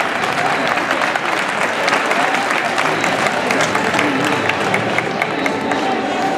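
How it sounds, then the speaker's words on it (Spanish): Loud, sustained applause from a crowd at a volunteering congress in Ourense, dense clapping with some cheering mixed in, steady for several seconds. "Un aplauso para él"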